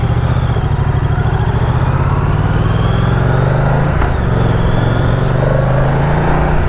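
A Moto Guzzi V100 motorcycle pulls away in first gear, its engine a steady, close, throaty drone that rises gently as it gets under way.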